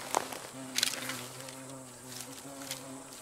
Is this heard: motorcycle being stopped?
no